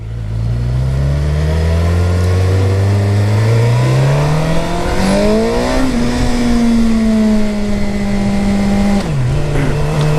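A 2008 Suzuki GSXR 750 sport motorcycle under way, its engine and exhaust droning loud and close, revs climbing steadily, dipping briefly, then holding and easing through gear changes without any talk.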